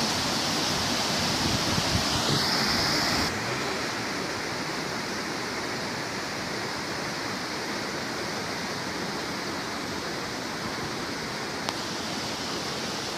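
Creek water rushing steadily after rain, a broad continuous roar of flowing water heard close and alone, unchanging throughout.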